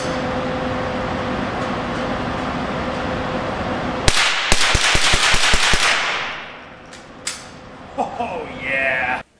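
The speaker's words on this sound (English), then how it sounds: "So another good thing is it does rapid fire. I was able to get this to rapid fire." A Winchester Model 77 .22 blowback rifle fires a rapid string of about eight sharp, loud shots in quick succession, followed by a few scattered clicks and rustling, with steady background noise before the burst.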